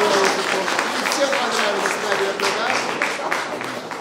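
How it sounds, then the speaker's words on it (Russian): An audience at a tribute concert for Mikhail Usachev-Poznansky at the Elena Obraztsova Cultural Centre gives steady, moderate applause, a dense patter of clapping that goes on throughout while a voice speaks over it. "что-то не жарко аплодировали этой версии"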